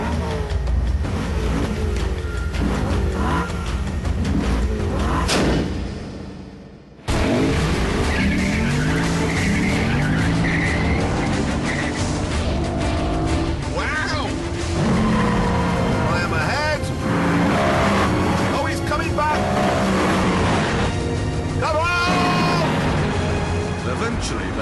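A BMW M3 and a heavier Lexus IS F drag race side by side, engines roaring loudly with tire squeal and revs rising and shifting over a sustained run, a brief cut partway through, with someone talking over it.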